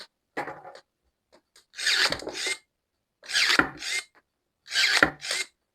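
ProCraft ES32LI cordless pruner cutting a thicker branch, with three loud crunching snips in bursts, each with a short motor whir, separated by silence.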